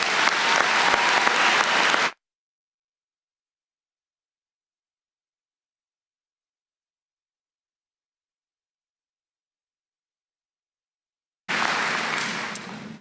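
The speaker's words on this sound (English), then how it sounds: "Let's give them a round of applause." Audience applause at the Muskego High School class of 2019 graduation, a loud burst of clapping for about two seconds, then silence, then another round of clapping swelling in near the end.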